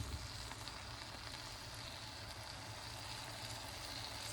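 Korean BBQ beef frying in a pan on low heat, a steady, even sizzle that continues without a break and with no talk.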